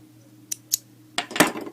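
Scissors trim fabric while sewing baby leg warmers: two quick isolated snips, then a denser cluster of cuts near the end, all close and fairly quiet with no talk.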